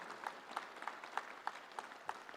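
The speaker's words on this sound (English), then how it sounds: "Let us all give these young prize winners a huge round of applause" Faint applause for young essay prize winners at a sustainability event, heard as a distant, evenly paced series of claps, roughly three per second, in a quiet room.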